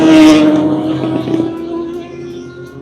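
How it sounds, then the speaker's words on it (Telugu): Motorbikes race past, a loud motor roaring close by, its engine pitch sweeping down as it recedes, with a fainter engine drone trailing behind. "కొంతమంది పిచ్చోళ్ళు ఇప్పుడే వెళ్తున్నారు ఎక్స్ట్రీమ్ అమౌంట్ ఆఫ్ రేసింగ్ చేసుకుంటూ బైక్స్ మీద వెళ్తున్నారు"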